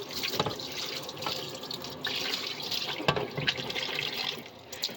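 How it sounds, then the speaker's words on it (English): A dish is rinsed under a running kitchen tap, water splashing and gurgling continuously in a sink with uneven surges as the dish is moved through the stream. "and you rinse it again."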